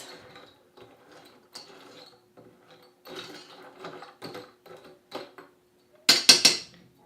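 Ground beef taco meat stirred in a pan, giving scattered soft scraping and clinking from a utensil against the pan, quiet and irregular, ending in a few louder sharp metallic clatters.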